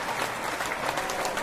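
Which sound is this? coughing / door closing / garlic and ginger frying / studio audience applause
studio audience applause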